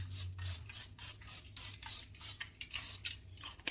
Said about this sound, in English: I'm going to give it just a teeny tiny bit of a spray with some oil